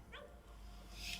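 A dog yips and whimpers briefly at a distance during a tense police detention, over a noisy, muffled background.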